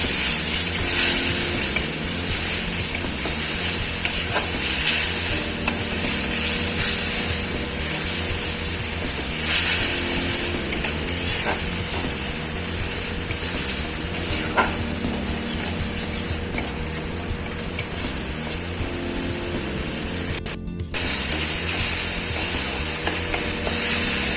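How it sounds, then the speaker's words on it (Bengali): Spices cooking down in oil for a Bengali potol dhoka curry, a steady close sizzle and hiss with occasional stirring scrapes and light clinks of a spoon against the pan. "এটাকে একটু ভালো করে কষিয়ে নেবো রান্না মশলাতে"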